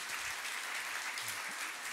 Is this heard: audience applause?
yes